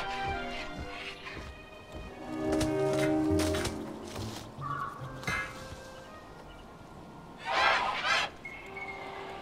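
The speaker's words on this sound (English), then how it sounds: "Angry birdie, trying to protect his golden egg." An angry bird honks in the Broken Age video game, guarding its golden egg: loud goose-like honks and squawks in bursts, with a final sharp flurry near the end over quiet game ambience.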